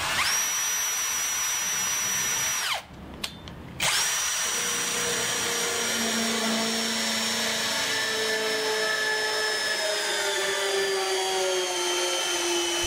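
A hole saw cutting with the drill run in reverse, a loud, close, steady whine that stops briefly near the start and then resumes, its pitch sinking slowly as it runs, with no talking.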